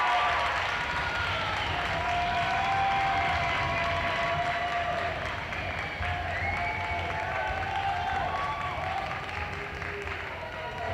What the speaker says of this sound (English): A big uproar from the crowd.